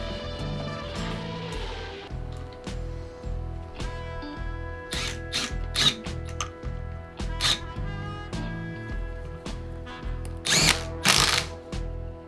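Power tool driving the dampening rod bolts on 39mm forks from a 1999–2005 Harley-Davidson Dyna: repeated short whirring bursts with a rhythmic pulsing hum, sharp clicks and clacks between runs, close up without any talking.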